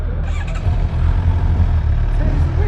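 A Suzuki GSX-R 750 motorcycle rumbles steadily up close on a demo ride, its deep engine note holding throughout with slight surges, a faint whine briefly above it.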